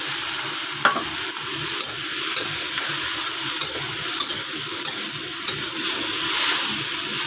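Tomatoes frying in a pan with softened onion, a steady sizzle with occasional stirring clinks, close and continuous with no talk.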